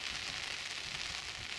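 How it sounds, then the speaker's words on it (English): Steady, unbroken rain driven by a strong wind on a riverbank during autumn barbel fishing, a dense hiss with no gaps or pauses for the whole short stretch, loud and close with nothing else standing out. "Some unrelenting rain on a strong wind."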